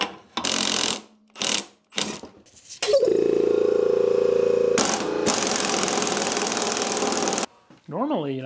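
Pneumatic air gun at work on a Cadillac Escalade magnetic strut and its thick spring: short loud bursts of rattling hammering, then a longer sustained run, close up, with voices talking between bursts.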